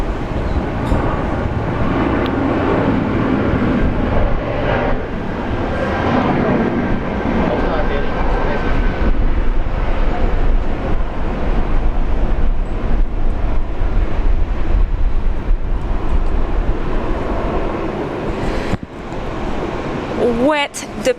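A Korean Air Dreamliner departs Brisbane on a wet runway, its engines giving a steady, broad roar blended with rain and wind noise across the whole stretch, with a voice talking over it.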